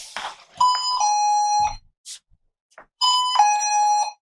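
A Guardian pressure mat alarm receiver, just armed, sounds two loud electronic chime bursts, each about a second long, separated by a short gap with faint clicks.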